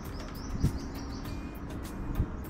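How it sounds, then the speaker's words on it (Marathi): Faint birds chirp high and distant over a steady outdoor hiss at Karnala Bird Sanctuary, with two soft low thumps. "आवाज येतोय पक्ष्यांचा"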